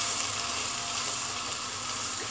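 Spices and onions frying in a pan for kofta curry, a steady broadband sizzle that holds evenly throughout with no voices.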